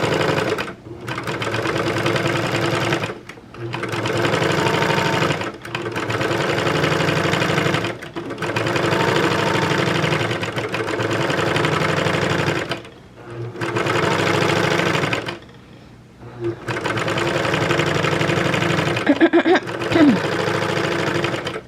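A serger sewing machine overlocks the seam allowances on gored skirt pieces, running loud and close in steady whirring bursts separated by short pauses, with a faint clink near the end.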